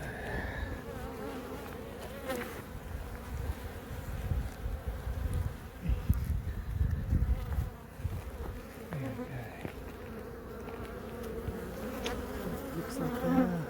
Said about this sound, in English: We're just coming to check on the bees here, just to see if they're cleaning things up.